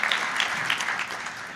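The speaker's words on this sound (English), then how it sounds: "that's an applause line" Audience applause at a tenth anniversary recognition event: dense, steady clapping from a crowd, fairly close and sustained throughout, easing slightly toward the end.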